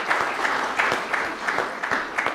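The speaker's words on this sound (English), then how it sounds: "How about a little applause for Whitney?" A church congregation gives light applause during a Sunday Advent worship service, moderate clapping with individual claps audible in a loose rhythm.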